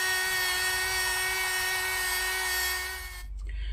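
A small battery-powered Parkside rotary tool removing rust whines at a high, steady pitch, grinding continuously before stopping abruptly near the end.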